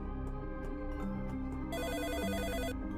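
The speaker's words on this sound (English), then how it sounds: "A phone begins to ring and we run upstairs to answer" A telephone rings in a video game, a bright repeating electronic trill that starts partway through over steady game music, loud and close.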